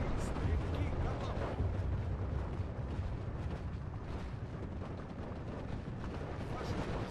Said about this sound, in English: There's mortars coming in on the left hand side.